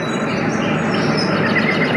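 Birds chirping on a portable Roffie N500 white noise sound machine, a steady broadband hiss with faint scattered tweets over a soft outdoor ambience, continuous and even throughout.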